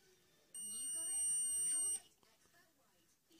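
Multimeter continuity test beep on a Dreamcast circuit board, one steady high-pitched tone lasting about a second and a half, close and clear, followed by quiet handling noise and a voice starting to speak.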